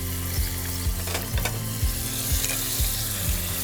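Prawns and scallops reheating in a hot pan with garlic and ginger, a close sizzle broken by regular rhythmic clacks about every half second from the pan or utensil.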